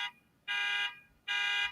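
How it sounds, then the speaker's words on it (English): A car alarm set off by a panic button blares in two long, steady electronic bursts separated by a short pause, loud and close, with no talking. "It's somebody's alarm going off in their car."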